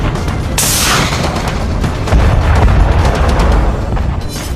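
Artillery explosions during a Chinese military war rehearsal near the Nepal border, a series of heavy booming blasts with a sharp crack early on and deep rolling rumbles after, loud throughout.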